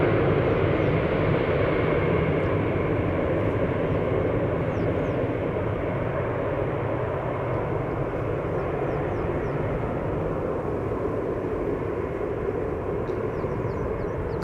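A KLM airliner departs at Amsterdam Schiphol, a sustained, heavy engine roar rumbling evenly and fairly close throughout, slowly easing slightly in level, with faint chirps above and no speech.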